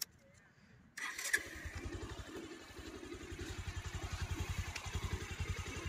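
A fully restored Bajaj Pulsar motorcycle engine starts after a second of quiet and settles into a steady, rhythmic thumping idle, close by and gradually growing louder.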